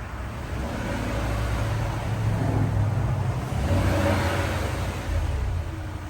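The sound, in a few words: 2006 Land Rover Range Rover engine running at idle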